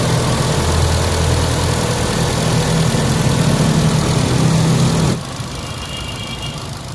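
A Ford EcoSport engine runs loud and steady with a low rumbling drone for about five seconds, then drops abruptly to a quieter, smoother idle hum with no talking.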